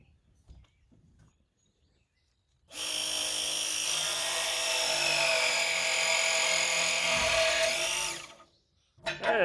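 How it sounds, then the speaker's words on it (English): A copper ProPress pressing tool crimps a fitting in one sustained burst of about five seconds, a loud, close motor whine with a rising, straining pitch that cuts off abruptly, with quiet gaps before and after. "that's how a copper ProPress tool works"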